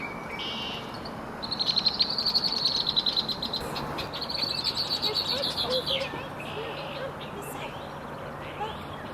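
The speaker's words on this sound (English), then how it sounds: "There was a red-winged blackbird." Red-winged blackbird calling in a marsh: a repeated high chirping trill that rises twice over several seconds, moderately close, over steady outdoor background noise with no talking.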